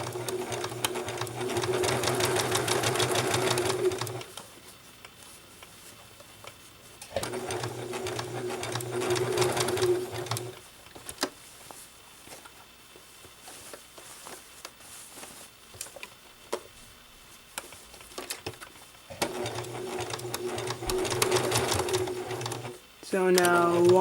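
Sewing machine stitching a hidden invisible pocket seam in fabric, running in three steady, loud bursts of rapid close stitching, with quieter handling pauses between them and no talk over the stitching.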